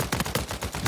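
Rapid gunfire in a video game, roughly five close, punchy shots fired in quick succession within a second, loud and alone.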